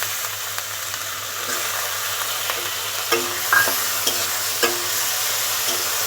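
Jute leaves and green chillies fry in a pan with boiled jackfruit seeds, a steady soft sizzle running throughout, punctuated by a few light stirring clinks near the middle.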